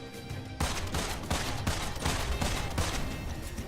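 Shotgun blasts in Immortal Redneck, a rogue-like shooter set in an Egyptian pyramid, burst out after a quiet start, with roughly five loud, evenly spaced booms close up.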